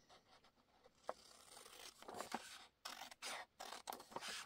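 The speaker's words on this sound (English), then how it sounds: "and I'm cutting it just inside the ink line that I've made" Scissors cutting a paper tag for a junk journal craft, with close, quiet snips and scraping rasps in short, uneven bursts.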